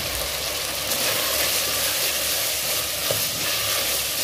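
Pepper stir-frying in a hot pan gives a loud, continuous sizzle with steady scraping and stirring, close by and without pause, and no voices.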